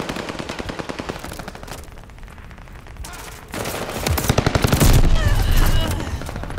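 Rapid automatic gunfire from the video game Call of Duty Vanguard, loud bursts of rattling shots running through the whole stretch and swelling heavier toward the end, with dense battle noise layered underneath.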